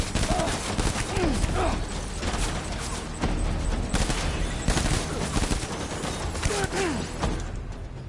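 Dense automatic gunfire in Death Stranding, rapid bursts of shots filling the whole stretch over a busy game soundscape, with brief voice snippets mixed in.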